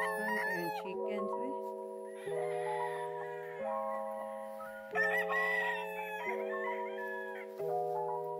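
Roosters crow repeatedly on a cockfighting farm, loud, drawn-out calls overlapping one after another close by, with clucking chickens between them.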